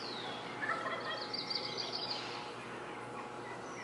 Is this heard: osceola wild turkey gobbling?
yes